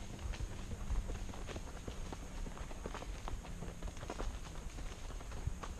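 Horses walking on a trail ride in Leelanau County, with quiet irregular hoof clops and footfalls on the path, faint and steady, alongside soft ambient noise and little talk.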